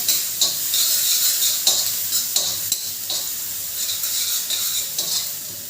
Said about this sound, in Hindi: प्याज को फ्राई करते हैं।